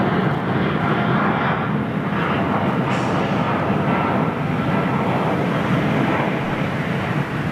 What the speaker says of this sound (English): XWB's making a beautiful noise.